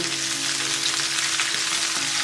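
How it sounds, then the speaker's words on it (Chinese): A steady, loud sizzle of pork bones pan-frying in a hot pan, continuous and close, with no voices. "我们给它每个面都煎一下，多翻动，煎到表面有焦斑"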